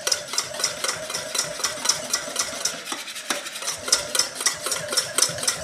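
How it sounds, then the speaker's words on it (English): Rapid whisking of a seasoning blend with ground thyme for a wild boar rack, a steady fast scraping rhythm of whisk against bowl, close and busy throughout with no speech. "we're just going to whisk this up real quick"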